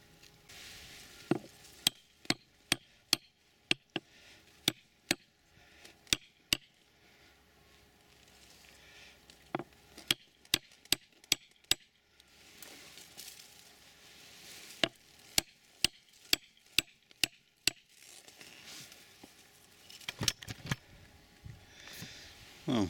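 A wooden gate post being hammered into the ground, a long run of sharp, distinct blows in uneven bursts with short pauses between groups, close and crisp against a quiet outdoor background.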